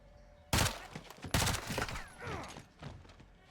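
Gunfire in the Modern Warfare II video game arrives as two sharp, loud bursts in quick succession, each followed by a crackling, echoing tail and scattered softer impacts fading away.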